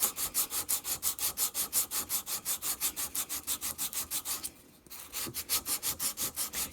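Coarse grit sandpaper rubs back and forth while removing excess solder, making fast, even rasping strokes that repeat steadily and close up, broken by one short pause before the rhythm resumes.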